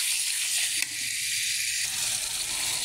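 Turmeric powder stirred into sizzling spices in a hot pan, a steady broadband frying hiss that runs the whole way with a brief stirring scrape near the start.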